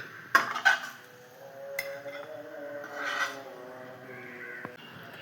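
Cooked food being scooped from a pan into another vessel in a home kitchen, with a couple of sharp metal clinks near the start and a soft scrape and clatter of utensils on cookware, close and fairly quiet.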